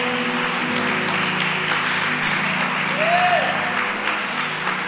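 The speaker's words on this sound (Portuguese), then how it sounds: "Aplaude e glorifique ao Senhor Jesus." A church congregation applauding in praise during a sermon, a dense continuous clatter of many hands filling the room, steady and moderately loud with a faint musical tone underneath.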